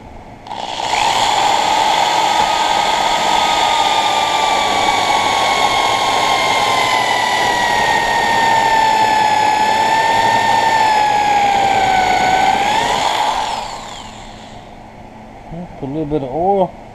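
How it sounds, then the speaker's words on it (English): A loud, steady electric drill whine runs continuously for about thirteen seconds while drilling holes for an outboard motor jackplate, pitch sagging slightly under load, then cuts off, followed by a brief rattle. "Let's go ahead and drill one right quick."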